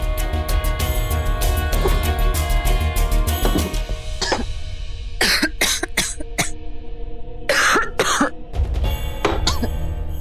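A woman coughs repeatedly in harsh, irregular bursts, some clustered close together, over a continuous tonal background bed of music.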